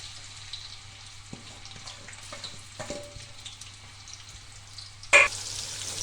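Onions drop into hot oil in a kadai and start a soft, steady fry, with a few light clinks and a sharper splash of sizzle near the end, no voices.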